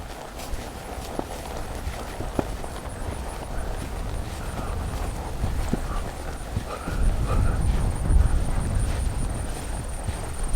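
Hooves of a young horse clopping in an uneven walking rhythm on the ground, moderately close, with low rumbling background noise throughout.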